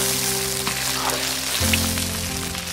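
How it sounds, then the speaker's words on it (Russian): Meat searing in a kazan, a continuous crackling sizzle with a low steady hum underneath and a few sharp pops, close and fairly loud, with no voices. "пока мясо там обжаривается"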